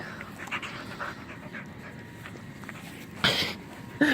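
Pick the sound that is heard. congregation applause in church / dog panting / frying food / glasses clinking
dog panting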